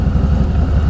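A 1700cc air-cooled motorcycle engine idles in traffic, a steady low rumbling throb with a pulsing beat, close and continuous throughout.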